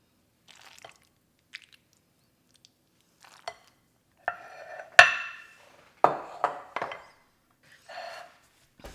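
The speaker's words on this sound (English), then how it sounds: "And then dish it into your bowl or onto your plate." Macaroni salad is mixed and spooned into a bowl, giving scattered soft wet squishes and scrapes with a few sharper clinks of utensil on dish, irregular and close with quiet gaps between.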